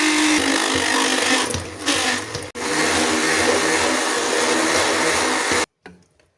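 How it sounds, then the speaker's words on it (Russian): A blender purees homemade peach jam in a steady, loud motorized whir with a couple of brief dips as the load shifts, then cuts off abruptly into near silence at the end. "сейчас я пробью джем блендером"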